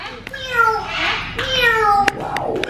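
A trained bird at a bird show at a Dubai dolphinarium imitates a cat with two drawn-out, wavering meows, loud and close, followed by a brief rustle.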